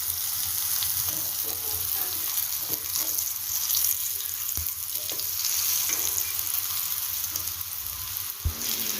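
Raw banana slices fry in oil on a tawa with a continuous bright sizzle and crackle, steady and close, with a few small knocks from stirring and no talk over it.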